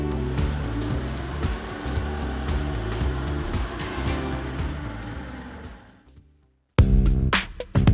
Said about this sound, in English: Release the parking brake and depress the accelerator pedal to move forward.